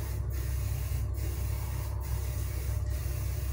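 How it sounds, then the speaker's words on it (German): Four short spray-can bursts of paint onto an AK rifle magazine, each a brief hiss evenly spaced about a second apart over a steady low workshop hum, close and fairly loud. "fängt ihr immer an zu sprühen vor dem Werkstück und hört auf zu sprühen hinter dem Werkstück"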